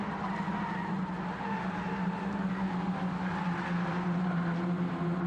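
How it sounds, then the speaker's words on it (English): Nissan Micra Cup race car spinning around at the top of turn 2 at Canadian Tire Motorsport Park, a steady loud engine drone with tire skidding noise running throughout, no talk. "I believe Bedard has gone around at the top of turn number 2"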